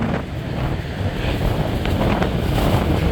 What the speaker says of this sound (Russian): Ветер сильный, сильнейший ветруган.